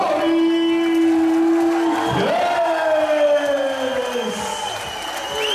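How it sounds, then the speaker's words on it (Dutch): A crowd applauds and cheers for two fighters after a bout, a loud continuous roar with whoops, under a strong sustained voice or tone that slides in pitch. "Een applaus voor deze twee strijders."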